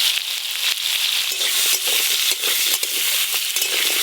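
Cut raw mango hitting hot mustard oil with five-spice and dried chillies in a wok, a loud, close, crackling sizzle that runs continuously with sharp pops and stirring scrapes.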